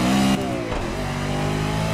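Car engine in the racing game Project Cars revving under gentle, light throttle, a steady mid-pitched drone with a brief blip near the start, heard alone at fairly high level.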